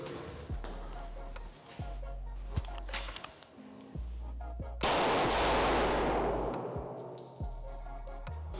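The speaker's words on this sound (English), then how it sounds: "Of course, with that heavy Rival S, this is a peach to shoot." Shots from a heavy Canik Rival S pistol: several sharp, evenly spaced reports on a range, one followed by a longer noisy wash, all under ongoing talk.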